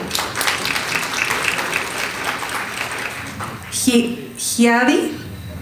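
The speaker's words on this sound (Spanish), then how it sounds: "Un aplauso para Rosalba" Audience applause at a Latin American panel on climate resilience, a sustained round of clapping for several seconds, then fading as a voice begins speaking over the tail.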